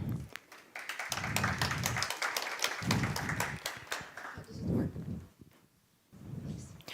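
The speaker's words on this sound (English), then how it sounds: "Round of applause to the founder" Scattered clapping from the audience at a deep tech startup pitch night as a founder is called to the stage; sparse, uneven claps ring out alongside ongoing talking from a presenter.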